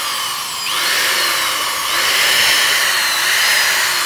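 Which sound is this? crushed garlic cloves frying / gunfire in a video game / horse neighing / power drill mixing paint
power drill mixing paint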